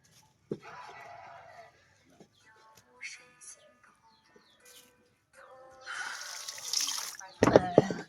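Vegetables are washed under running water: a steady splashing stream rises in the second half, close and fairly loud, ending in a sharper burst of splashes, with people talking earlier on.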